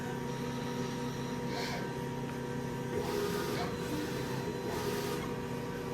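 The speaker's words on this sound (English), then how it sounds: "check, which will give us our lines to make sure how the heads are printing" A DTF transfer printer runs a nozzle check, a soft mechanical whir with a steady motor tone and a few swishing passes of the print head, faint and close, with a voice briefly underneath.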